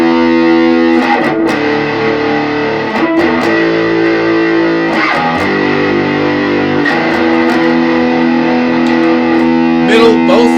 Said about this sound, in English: And now we will put on some distortion.